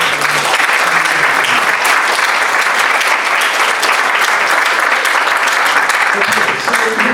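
A large audience claps steadily and loudly, a dense sustained wash of applause throughout.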